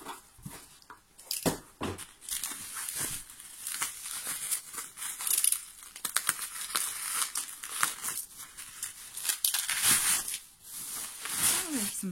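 Paper packaging being unwrapped from a parcel of K-pop merchandise, with close, irregular crinkling and tearing rustles running throughout and a few sharper crackles.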